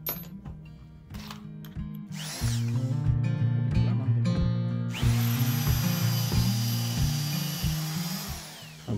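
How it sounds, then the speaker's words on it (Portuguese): An electric drill with a size 5 bit bores a hole while making a wooden dove-call whistle, its motor whirring loudly in several short bursts before a steadier, sustained whine of drilling. "Agora eu venho com a broca."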